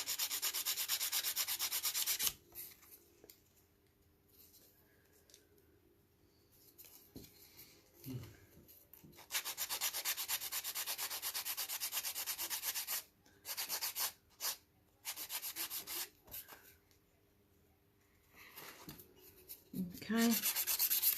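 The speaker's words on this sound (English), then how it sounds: "Just get my nail file. Give it a quick, one of them a quick buff." A nail file buffs and smooths a nail in bursts of close, dry, scratchy rubbing strokes, separated by quiet pauses, with a brief short stroke pattern in the middle and faint handling noises.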